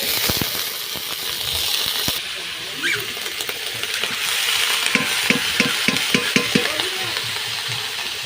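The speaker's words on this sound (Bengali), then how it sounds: "বাঁধাকপির ঘন্ট করা হবে, এই জন্য সব ফোড়ন দেওয়া হচ্ছে।" Whole spices tempering in hot oil for Bengali cabbage ghonto, a steady close sizzle with sharp popping crackles and clinks of a stirring spoon against the pan, louder bursts of spattering toward the end.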